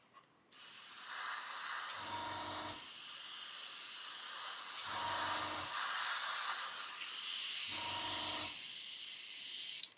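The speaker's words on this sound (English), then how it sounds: "blow back through, and we'll see how it sprays" Airbrush spraying thinned acrylic model paint, a steady loud hiss running almost the whole time after a short start, with three brief low sputtering bursts where air blows back through the brush.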